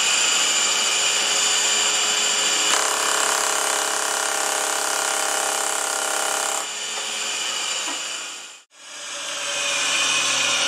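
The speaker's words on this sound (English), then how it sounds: "You'll be able to see it better as the machine slows down." A floor sander fitted with a red rubber drum whines loudly and steadily nearby. Its pitch then drops as the machine slows, and a brief dip in the sound is followed by the hum rising again.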